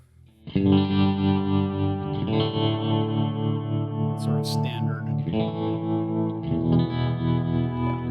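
Sustained electric guitar chords played through tremolo, delay and reverb pedals ring out with a wavering, effected tone and lingering echoes, while a voice speaks briefly underneath.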